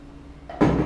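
Water poured into a shaker of protein powder for an instant drink, a sudden loud splashing gush that starts near the end, after a brief quieter trickle, close up with no talk.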